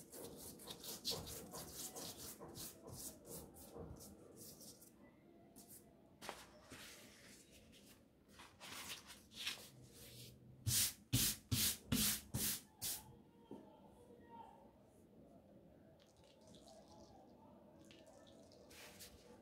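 Oil is brushed and rubbed across stacked sheets of phyllo dough for a layered holiday dessert, making soft, close scraping strokes with a quick burst of rapid rhythmic brushing midway.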